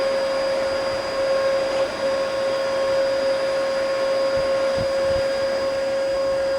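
A Bissell vacuum cleaner with a broken brush bar and no suction runs steadily and loudly, a constant motor whine holding for the whole stretch with no speech over it.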